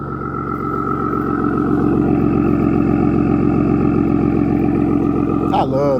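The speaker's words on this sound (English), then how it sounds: "Just gonna let y'all hear the exhaust back here." The exhaust of a lifted Ford F-150 pickup truck rumbles at a steady, close idle, with a deep, continuous burble throughout and a short disturbance near the end.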